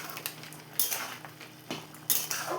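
Milk powder being stirred into a vegetarian biryani pot, metal spoon scraping and clinking against the pot in a few quick, fairly quiet strokes.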